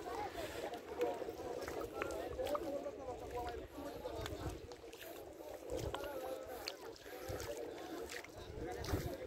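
A boat at a river crossing near Sandwip comes in as a steady low engine and water rumble with wind noise throughout, while people talk over it.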